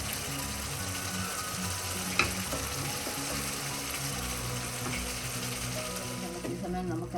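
Black pomfret pepper curry bubbling in a pan, a steady close sizzle and simmer with a few soft clinks partway through.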